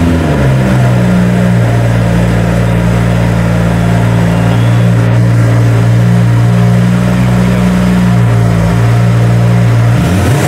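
A Ferrari engine fitted with a completely new exhaust system runs loud and close, holding a steady deep drone with slight rises and dips in pitch throughout.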